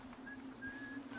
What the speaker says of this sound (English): I hear a whistle.